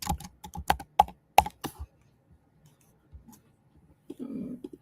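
Rapid clicking keystrokes on a computer keyboard, a quick burst of close taps that stops partway through, followed by a faint low murmur near the end.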